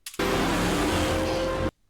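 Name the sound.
car driven by Wally in The Flash scene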